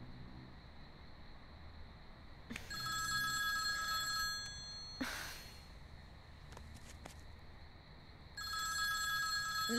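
A telephone rings in bursts of bright electronic tones, with a pause in the middle, heard alone over quiet room noise.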